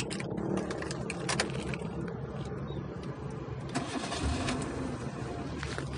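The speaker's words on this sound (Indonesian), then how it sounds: "Kita langsung coba nyalain mesinnya." A 2009 Hyundai i10 with automatic transmission cranks and its small engine catches, then runs at a close, fairly steady idle with slight fluctuations in level.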